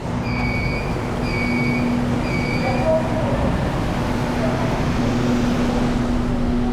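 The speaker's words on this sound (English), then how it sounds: "we are taking one of the most advanced metro trains here in Shanghai" Steady loud rumble of a driverless Shanghai metro train running, with a constant hum and a few faint electronic beeps early on.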